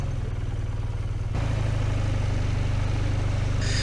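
A BMW R12 motorcycle engine, 2024 Option 719 model, runs with a steady low throb that steps up to a stronger, louder drone partway through, heard close and alone.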